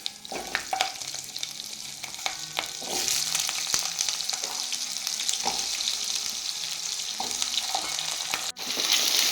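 Potatoes frying in a wok of hot oil with panch phoron and green chillies, a steady close sizzle broken by spatula scrapes and stirring clatter throughout, with a louder hiss swelling midway as the vegetables settle into the oil.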